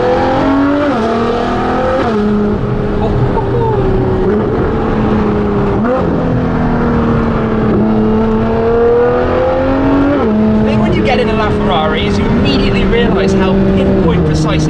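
Ferrari LaFerrari engine while driving gently, a loud, continuous tonal drone heard from inside the car that rises and falls through gear changes, with someone talking over it.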